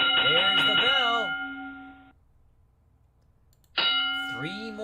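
A boxing round bell in the Title Bout II PC video game clangs twice with bright, ringing metallic strikes that decay over about a second each, separated by a quiet gap.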